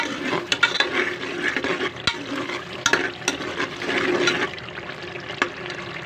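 A spice masala roasts in a pan for sobat, a traditional dish of Dera Ismail Khan, with a loud, busy sizzle close by and sharp clatters from a stirring spoon throughout, and no speech.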